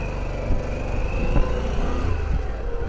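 Harley-Davidson Pan America motorcycle fitted with a Screaming Eagle exhaust, engine idling at a standstill with a steady, even rumble and a couple of small revs, fairly close and with no talk over it.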